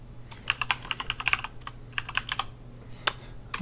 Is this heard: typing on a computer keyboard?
yes